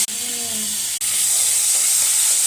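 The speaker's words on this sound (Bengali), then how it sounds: "পটলগুলো এখনও ভাজা হচ্ছে" Pointed gourd fries in oil in a pan, giving a loud, close, continuous sizzle and steamy hiss that fills the moment, with a brief faint voice at the very start.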